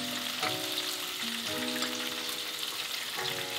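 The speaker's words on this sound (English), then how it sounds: "we're just gonna keep basting them in that butter" Walleye fillets sizzling in butter in a pan while being basted, a loud, steady frying hiss with a few clinks of a spoon against the pan.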